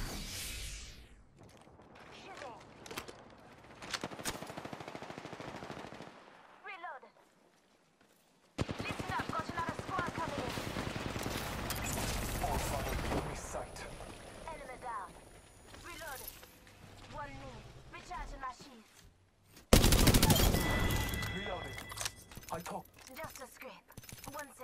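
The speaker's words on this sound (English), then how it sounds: "Shots fired." Bursts of rapid automatic gunfire crackle through an Apex Legends match, volleys stopping and restarting over game sounds, with a voice talking throughout.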